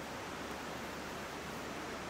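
Shirahige Falls in Biei, Hokkaido, in snowy winter: a constant, broad rushing roar of falling water, steady and enveloping with no other sounds.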